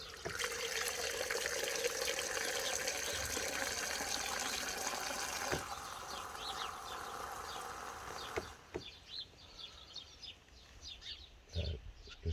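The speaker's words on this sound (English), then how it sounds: "fill this jug up." A jug being filled with water from a tap for Jadam liquid garden fertiliser, a steady rushing pour that changes pitch as the jug fills, then cuts off near the end with a few small knocks.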